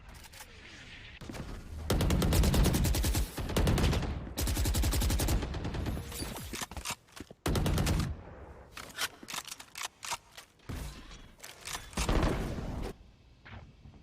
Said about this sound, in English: Just some fire here in mid at one another. No one hitting those shots.